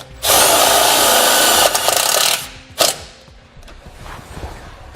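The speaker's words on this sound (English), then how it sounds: "We'll use a 10mm socket to thread our bolt in." A power driver with a 10mm socket runs a self-tapping screw into the steel frame of a 2013 Chevrolet truck, a steady loud whir for about two seconds that trails off, then a short sharp burst and fainter clicks.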